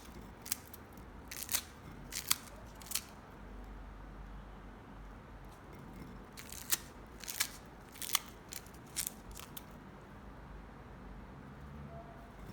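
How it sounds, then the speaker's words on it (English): Scissors pushed into the center of a corn cob and twisted to split it and free the kernels, giving sharp crunchy snips and crackles in two bursts separated by quiet, close and fairly soft. "Insert the scissors into the center, twist gently, and pull it apart."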